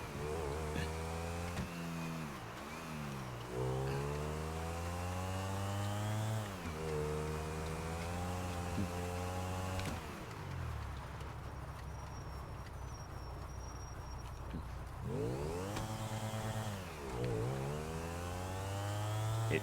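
A small motorbike engine in a GTA roleplay game runs with a high, buzzing whine that rises and falls as it revs repeatedly, dropping to a lower idle in the middle before climbing again.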